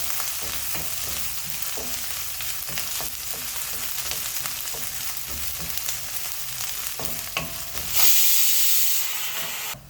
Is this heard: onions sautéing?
yes